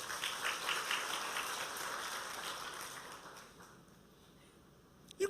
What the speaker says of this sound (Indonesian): Tepuk tangan untuk Kristus